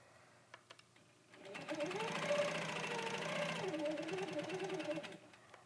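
A sewing machine stitches steadily for about four seconds as the operator guides fabric along ovals, arcs and waves, its motor hum rising and dipping slightly with the curves, preceded by a few light clicks.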